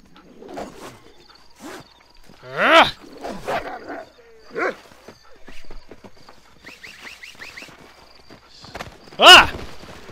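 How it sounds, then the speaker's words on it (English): A dog barks in the Western video game Red Dead Redemption, a few separate sharp barks and growls spread across the scene, close and loud, with quieter game noises between. "Dog!"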